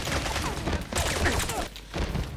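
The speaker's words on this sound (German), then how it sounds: "Vier Schüsse, drei Kopfschüsse." Rapid gunfire from handguns in the video game James Bond: Blood Stone, with several sharp shots in quick bursts over the game's steady, busy background.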